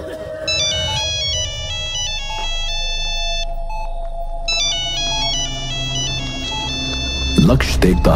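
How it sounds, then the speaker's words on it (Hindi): A mobile phone ringtone plays a repeating electronic melody of bright tones, pausing briefly before starting again, continuous and fairly clear over a low background hum, with a noisy burst near the end. "फोन लगातार रिंग हो रहा है।"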